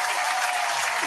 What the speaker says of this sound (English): We're gonna clap for you.